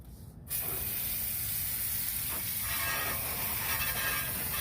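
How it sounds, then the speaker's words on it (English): A garden hose sprays water steadily onto car wheels during cleaning, a loud continuous hiss that starts abruptly after a brief quiet moment and runs unbroken to the end. "And you can get your garden hose."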